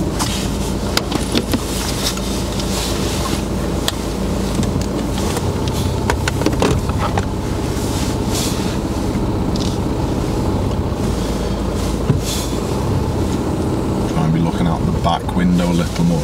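A car reversing slowly during a driving lesson, with a steady low engine and road rumble held at a constant level throughout and a few faint clicks and knocks in the cabin.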